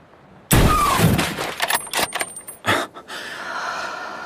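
A single loud sniper rifle shot cracks sharply, followed by metallic clinks and rattling as the bolt is worked, then a quieter thud and fading whistle.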